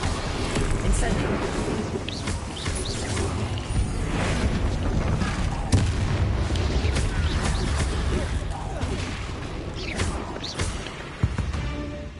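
Incendio fire spells blasting in Hogwarts Legacy during a room fight, with repeated whooshing and crackling bursts and thuds over a busy combat roar, and voices talking throughout.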